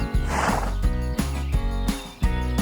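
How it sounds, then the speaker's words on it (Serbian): A horse neighs in a long, loud whinny, its trembling call repeating in pulses over a steady rhythmic backing. "Čik pogodi, to je konj."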